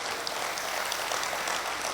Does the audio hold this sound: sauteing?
no